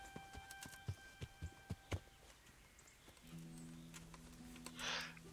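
Horse hooves clip-clop in the medieval game Kingdom Come: Deliverance, a quick, even run of fairly faint hoof strikes over about two seconds, followed by soft in-game ambient tones and a brief swish.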